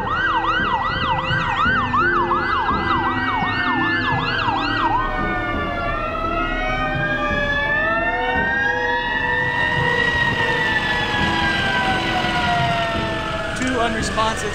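An ambulance siren wails at the scene of a staged crash-response drill, first in a rapid yelp, then shifting to a slow rising and falling wail, loud and continuous over a steady background rumble.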